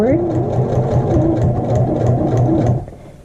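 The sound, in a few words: sewing machine stitching a lapped zipper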